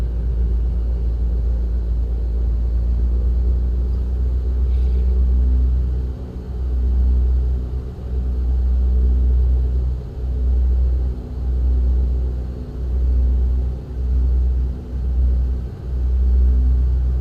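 A steady, droning propeller-engine rumble from a small plane in a flight simulator game runs throughout, low and continuous, with brief periodic dips in loudness toward the end.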